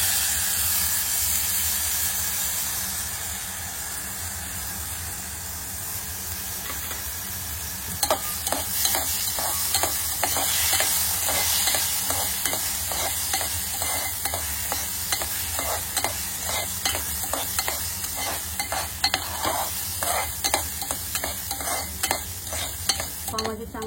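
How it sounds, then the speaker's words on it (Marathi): Rice roasting in ghee in a pan for traditional kheer, a continuous close sizzle and hiss with rapid, regular scraping strokes of a spoon stirring throughout the second half, no voices. "तुपामध्ये चांगले तांदूळ खरपूस भाजून घ्यायचे।"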